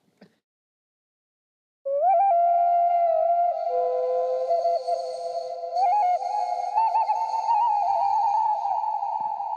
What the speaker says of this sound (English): I'm introducing the 3D printed cheap flute whistle